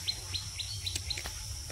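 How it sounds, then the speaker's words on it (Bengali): Small birds chirp in the morning after rain in a village, a series of quick, thin tweets repeating every few tenths of a second over a low background rumble. "পাখি ডাকতেছে,"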